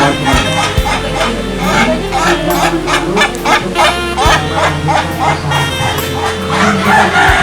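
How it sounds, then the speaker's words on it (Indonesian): Japanese imperial long-tailed chickens crowing and clucking among other fowl and barking dogs, a busy, continuous farmyard din with people talking close by. "Ini ayam kekaisaran Jepang."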